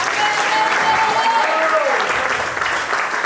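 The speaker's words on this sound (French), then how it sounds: "acclamons le Seigneur pour ça" A church congregation claps loudly together in sustained, dense applause that fills the space for a few seconds, with voices calling out faintly beneath it.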